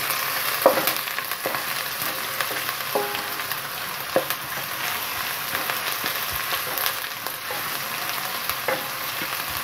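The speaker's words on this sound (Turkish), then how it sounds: "Bunu kızartacağız yağ içinde." Steady crackling sizzle of food frying in oil, with occasional louder pops and stirring clinks over the constant hiss.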